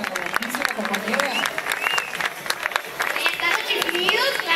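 Audience at an awards gala applauding steadily, dense overlapping clapping with scattered voices and cheers mixed in throughout.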